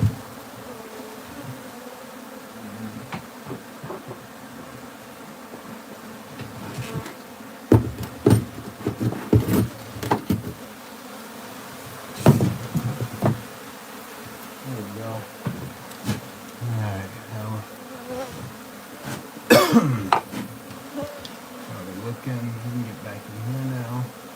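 Bees buzz steadily around a wild beehive as it is moved to a new home, a close droning swarm with intermittent knocks and handling thumps, while someone talks over it now and then.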